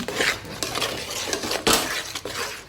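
Semolina tipped into a pan of roasting besan for ladoo and stirred, with a spoon clinking and scraping against the metal pan in a close, steady run of stirring and clattering.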